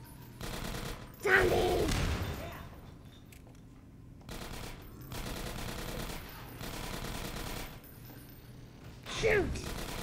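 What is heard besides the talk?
gunfire shooting zombies in video game Half-Life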